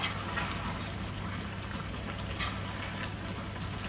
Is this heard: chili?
yes